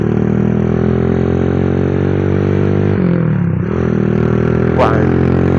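A Honda CB Tiger 200cc motorcycle fitted with a Dos aftermarket exhaust runs steadily and loudly up close, its engine note dipping briefly in the middle before settling back.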